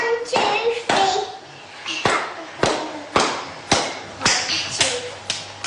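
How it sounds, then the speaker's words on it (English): Hands clap together in a sing-along, about nine sharp, close claps in an uneven, counted rhythm with brief pauses between them, standing alone without talk. "Clap your hands together, 1,"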